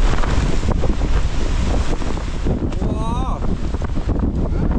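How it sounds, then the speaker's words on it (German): Strong storm gusts whip sand across open ground outdoors, a loud, continuous roar of wind buffeting the microphone throughout, with a person's brief exclamation and faint shouts partway through. "während den Böen peitscht der Sturm die Sandkörner umher"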